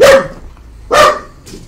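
Two loud, close dog barks sound in quick succession, each a sharp bow-wow with a tonal cry, followed by a fainter third yelp, with no talking.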